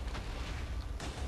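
Deep rumbling blasts of TNT explosions in a Minecraft redstone cannon, with a dense low roar swelling at the start and again near the end, loud and continuous.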